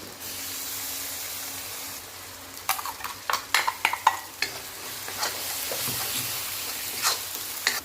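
An onion, garlic and tomato paste frying in a pan hisses steadily, with a burst of clattering stirring in the middle before the even sizzle returns.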